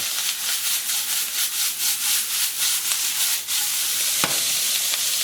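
Bacon frying in a pan: a close, dense, steady sizzle with rhythmic rubbing and scraping strokes as it is pushed around, ending with a sharp tap against the pan.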